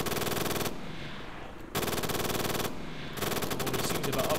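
Automatic gunfire in the ArmA 3 video game, with a Pawnee versus Kajman helicopter clash: two long sustained bursts of rapid-fire shots, loud and close, separated by brief pauses, with a further burst starting at the end.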